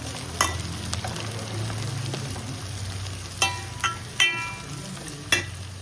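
Onion, garlic and curry leaves sizzle steadily in hot oil with mustard and fenugreek seeds, a continuous close frying hiss broken by a few sharp clinks of a stirring spoon against the pan.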